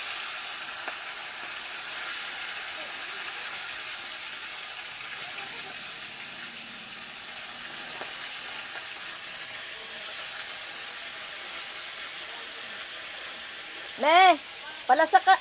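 Steady loud sizzling hiss of fish frying in hot oil, continuous throughout, with brief bird-like chirps near the end.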